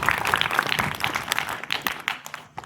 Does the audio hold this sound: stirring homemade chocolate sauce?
no